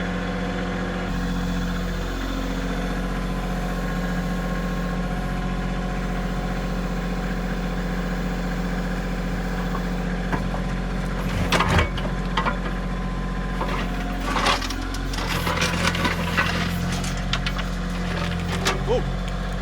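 A backhoe's diesel engine idles with a steady, close, low drone while scooping dirt; a few knocks and clatters break in near the middle and toward the end.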